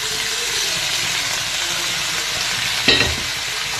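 Pork fries in ghee masala with a loud, steady sizzle and hiss close by, and one brief clatter of stirring near the end. No one speaks.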